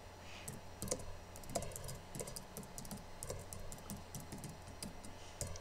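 Fingers tap out a steady run of light keystrokes on a computer keyboard while writing Python code, each click faint and close with no voice.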